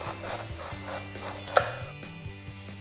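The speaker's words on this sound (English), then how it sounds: "If you're having French baguette, keep it in an angle and slice them so that you have a larger surface area." A knife sawing through a French baguette at an angle: a rhythmic rasp of the blade through the crisp crust, close up, with one sharp knock near the end.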